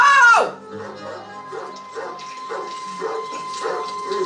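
A dog in a Doctor Who episode gives a loud whining yelp, then a run of quieter, evenly spaced barks and whimpers follows over a faint background tone.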